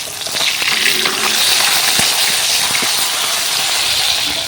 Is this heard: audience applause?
no